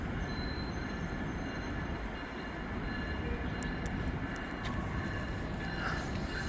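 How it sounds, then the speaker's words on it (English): Continuous low rumble of an Amtrak train pulling out of Union Station, with faint metallic squeals and clicks from the wheels, steady and moderately distant. "let's watch this train back to Millennium pull on out of here"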